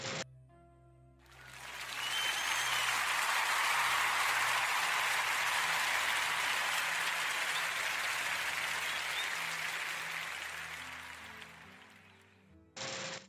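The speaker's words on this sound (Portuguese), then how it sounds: "mais uma vez, uma enorme salva de palmas" Sustained applause from a group on a radio podcast, a steady wash of clapping that swells in and holds for about ten seconds before fading out.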